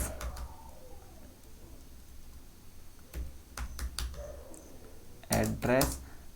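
Computer keyboard keys are typed while coding HTML, with scattered clicks in short bursts and a quick flurry of keystrokes near the end, all fairly close over a quiet room.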